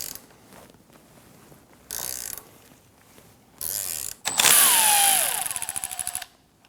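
Two wrenches counter-twist an 18mm bolt and nut on the front suspension of a 2009-2017 Audi Q5. Several loud, close bursts of metallic ratcheting clicks are separated by short pauses, ending in a longer clicking run with a faint squeal.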